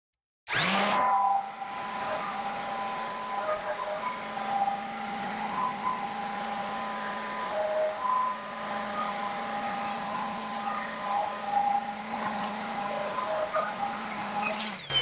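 An electric sander works a wooden cutting board with 220-grit paper, producing a steady close whirring hum with a gritty rasp that shifts slightly as it moves, running continuously for about fifteen seconds.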